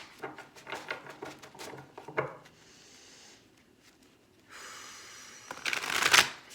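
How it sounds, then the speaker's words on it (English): Guidance cards being shuffled by hand during an earth-sign reading, coming in several bursts of quick papery riffling with short quiet gaps between them, growing loudest and densest near the end, with no voices over it. "They want me to pull the guidance cards."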